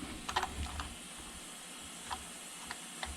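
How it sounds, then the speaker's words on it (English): Small metallic clicks and ratcheting come from a regulator being taken off a Craftsman air compressor, sparse and close by, with quiet pauses between the sounds. "I'm gonna start by taking this regulator off, hopefully."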